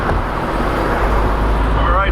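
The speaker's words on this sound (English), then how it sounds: "All right, so we are rolling in the 944" Porsche 944 on the road with older tires, a steady, loud broadband rumble of engine and road noise filling the whole stretch without a break.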